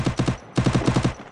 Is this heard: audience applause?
no